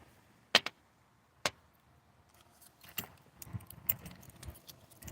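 Lock picking keys handled at a bench, with sparse metallic clicks and jingles, a couple of sharp taps early and a cluster of light rattling touches later, quiet and close.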